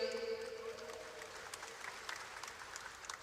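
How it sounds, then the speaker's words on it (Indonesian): Applause for a deputy minister at a village cooperative dialogue event, a steady patter of clapping from an audience across the whole stretch, with a faint voice and tonal hum at the start. "saya tepuk tangan yang keras dong"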